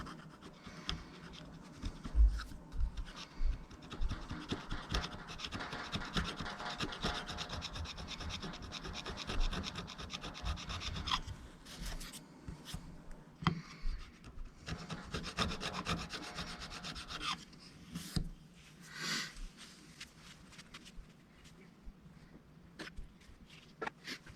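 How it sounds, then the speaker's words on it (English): Fine 800-grit sandpaper rubbed lightly over the finished wooden body of a Harley Benton guitar during a service, a continuous soft rasping with brisk back-and-forth strokes, close and steady, with brief pauses and no voices. "This is a piece of 800 grit, and we are just going to lightly sand that."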